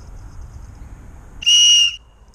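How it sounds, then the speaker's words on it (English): A sharp, shrill whistle blast, about half a second long and steady in pitch, rises loudly above faint background noise. "He don't like them whistles and loud noises."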